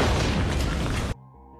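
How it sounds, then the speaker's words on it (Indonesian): A sudden explosion in a war film, where a motorbike is hit by a strike from a drone, gives a loud, full rumbling boom that lasts about a second and then cuts abruptly to quiet low tones. "Tiba-tiba, ledakan terjadi."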